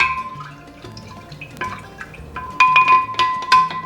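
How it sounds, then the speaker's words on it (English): A spoon stirring a pitcher of sangria, giving a run of bright glassy clinks and liquid swishes that grow louder toward the end, close up with no talking. "We're gonna give this a little stir."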